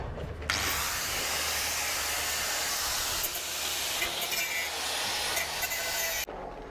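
An angle grinder cuts through tack welds on a 6 mm steel plate in a workshop, one loud continuous high-pitched whine lasting several seconds with small scraping shifts before it stops abruptly.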